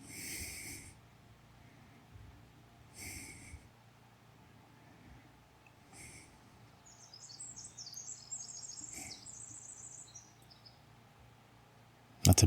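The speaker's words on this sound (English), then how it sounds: "That's a beautiful bird sound." A bird sings a brief trilling phrase in the distance, with soft, intermittent huffing sounds earlier and a low ambient hum underneath.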